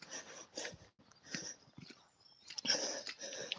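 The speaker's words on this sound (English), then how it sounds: "And this is just dogs being dogs." Dogs pant, snuffle and huff close by in irregular bursts while playing on a British woodland walk near muddy water.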